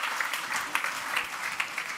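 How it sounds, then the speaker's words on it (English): Soft, distant applause from a conference audience, a light wash of clapping with a few louder claps standing out over two seconds. "This is your round of applause."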